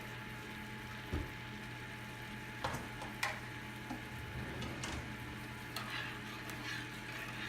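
A utensil stirs teriyaki sauce with sugar and garlic powder, producing faint scraping and occasional sharp clinks against the container over a steady low hum, with no talking.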